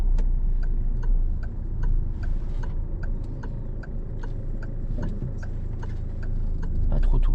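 A car's turn signal ticks steadily and evenly throughout, at a moderate pace, over the low hum of the cabin during a driving lesson while parking.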